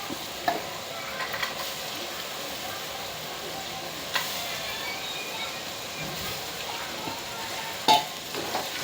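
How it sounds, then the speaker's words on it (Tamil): Green peas, along with green chillies and carrot, are stirred in oil in a pan, giving a soft, continuous sizzle broken by occasional utensil scrapes and clinks, with a voice talking over it. "அந்த எண்ணெயிலே நல்லா பரட்டு பரட்டிக்கணும் அப்புறம் அது கூடயே பச்சை பட்டாணி"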